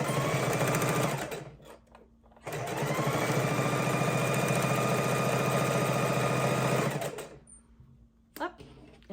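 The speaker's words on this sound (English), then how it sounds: "we're just going to keep chain stitching till we have this stack done" Sewing machine chain stitching four-patch quilt patches for a baby quilt, a close, loud, steady mechanical whir in two long runs separated by a brief pause, then stopping near the end with small handling sounds.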